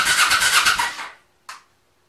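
A motorcycle engine under restoration is cranked with the ignition off to build oil pressure: a loud whirring starter churn for about a second, then it stops, followed by a brief squeal.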